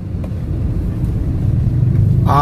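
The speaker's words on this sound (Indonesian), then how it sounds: "Ini dipadati dengan berkendaraan bermotor." Busy motor-vehicle traffic on Jalan Manuruki Raya during a congested hour, a steady low rumble of engines passing close by, growing slightly louder toward the end, with no talk.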